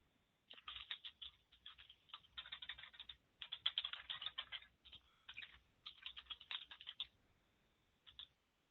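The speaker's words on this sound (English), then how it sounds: "I mean, I heard you typing." Computer keyboard typing heard faintly over a telephone line, bursts of rapid clicking keystrokes with brief pauses, thin and band-limited, no talking.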